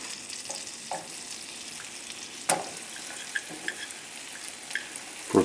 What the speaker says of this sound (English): I'm going to saute the mushrooms and the onions